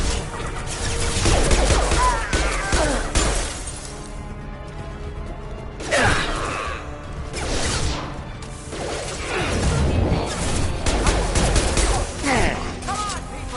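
Combat gunfire in the video game Mass Effect 2, with loud bursts of rapid shots, heavy impacts and crashing hits coming in waves with brief lulls between them, and voices shouting over the fighting.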